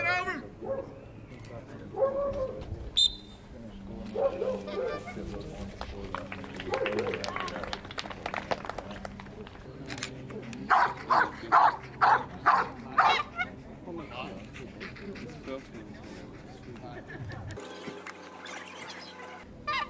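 Dogs in Mondioring training give whimpers and scattered yips, then a run of loud, sharp barks, while a person nearby talks and gives commands.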